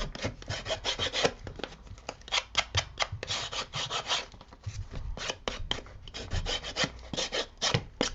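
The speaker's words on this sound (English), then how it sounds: "take my distress tool and just give it a really nice sanding job" Steady rasping scrapes of sanding paper edges with a distress tool, rapid back-and-forth strokes close up, continuous and fairly quiet with no talking.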